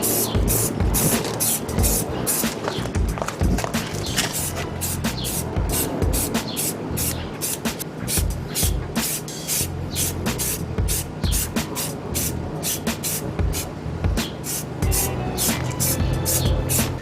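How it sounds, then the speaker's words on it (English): Red caliper paint hisses from a spray can onto the brake calipers of a 2017 Subaru Forester XT in a steady run of short close bursts, with no talking. "now we're gonna apply our first coat of the actual red caliper paint"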